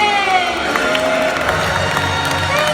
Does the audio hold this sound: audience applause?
yes